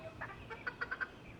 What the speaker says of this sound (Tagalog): Yung sisiw natin dito, no, nakalagay dyan.